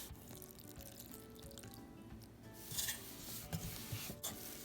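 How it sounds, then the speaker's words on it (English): Biscuit dough of flour, shortening and water being stirred by hand, a soft steady rubbing and scraping that runs throughout with a few brief wetter scrapes, close and fairly quiet. "Add a little bit of water at a time and keep stirring."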